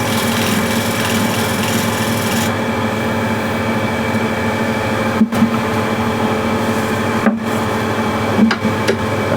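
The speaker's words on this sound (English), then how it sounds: "Just going to clean this with the shear scraper." A wooden bowl spins on a lathe while a shear scraper cleans its surface, giving a steady, fairly loud whirring hum with a few brief dips and scrapes, no talking.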